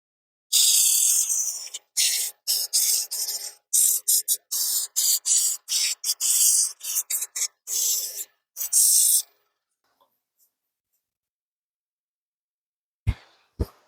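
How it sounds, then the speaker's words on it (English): Hand sanding on wood: a long run of short, rasping back-and-forth strokes with brief pauses between them, close and fairly loud, then the scraping stops. "Let's go ahead and do some sanding on that inside."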